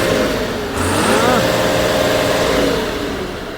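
An Agri Master tractor engine runs close by and rises into a rev, a loud steady droning rumble with a climbing whine partway through, continuing at a high pitch.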